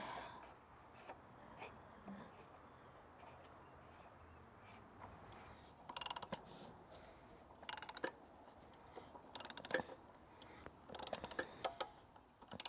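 A new cartridge oil filter is screwed back into its housing during a Jeep oil change, giving quiet ratcheting clicks in short bursts, several sharp clusters close up over a faint background.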